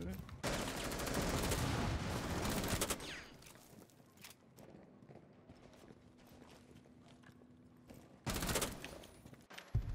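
Gunfire shot through a wall in Rainbow Six Siege, with loud sustained bursts at the start and again near the end, separated by a quieter stretch of faint game noise.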